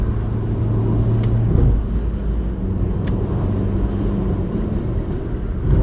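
A car drives along a road in New Zealand on the way to Auckland, its steady low engine and road rumble filling the whole stretch at close range with no talk.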